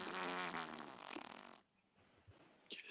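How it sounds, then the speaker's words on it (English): A single buzzy, fluttering fart lasts about a second and a half before fading into near silence, followed by a few faint scattered noises. It is quiet overall. "who has just farted?"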